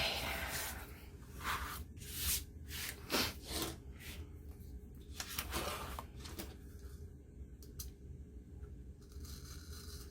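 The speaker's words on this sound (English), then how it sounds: "I'll try to rub some of this off." A page in a handmade Victorian-style journal is rubbed by hand, giving soft, close, intermittent scratchy strokes in short bursts over ten quiet seconds, with no talking.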